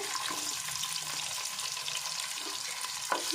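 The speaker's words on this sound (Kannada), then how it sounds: "ನೀರುಳ್ಳಿ ಫ್ರೈ ಆವಡು ತುಲೆ ನೀರುಳ್ಳಿ ಫ್ರೈ ಆಂಡು" Chopped onion fries in coconut oil in a pan, giving a steady, fairly quiet sizzle with light stirring noises throughout and no speech.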